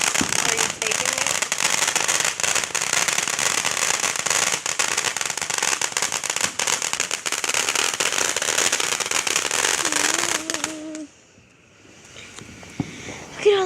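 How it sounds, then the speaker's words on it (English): Fourth of July fireworks and firecrackers crackle and pop in a dense, continuous barrage that carries on for about ten seconds and then drops off sharply. A voice and a few scattered pops follow in a much quieter stretch. "Look at all those fireworks at the bottom."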